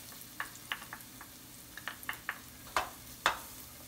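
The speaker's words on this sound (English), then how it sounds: "let's put in our garlic. This is about 3 to 4 cloves of minced garlic." Minced garlic, about three to four cloves, hits a pan and sizzles in quiet spurts, with scattered soft pops and crackles close by.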